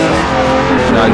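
Ford Transit van engine revving hard in the racing game Assetto Corsa, a loud, steady drone that holds and swells slightly throughout, with someone talking over it.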